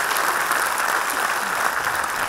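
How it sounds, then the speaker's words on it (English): An audience at a student debate in Pune gives the debaters a steady round of applause, a dense, continuous wash of many hands clapping that fills the room alone. "Round of applause."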